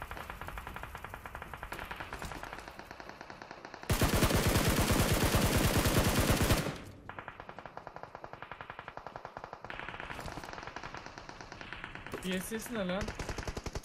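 Automatic gunfire from behind in PUBG Mobile, a loud dense burst lasting a few seconds amid other scattered shots, with players talking over it.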